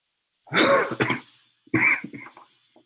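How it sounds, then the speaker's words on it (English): Two bursts of coughing, close and fairly loud, separated by a short pause, with no talking. "I'm still kind of getting over a lingering cough and congestion."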